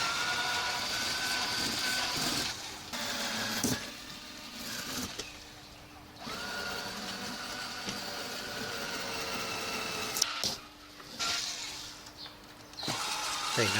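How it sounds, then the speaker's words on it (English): An electric drill bores holes through the leather of an old travel suitcase in several short bursts, each whirring up and stopping, with rattling handling noises between, moderately close. "I'm just drilling a few holes so I can get some screws and stuff in"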